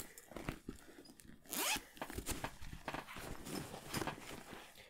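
Zipper on the case of Orion GiantView ED 16x80 binoculars being unzipped, a close run of rapid rasping ticks with a louder pull near the start, followed by further scratchy zip strokes and handling.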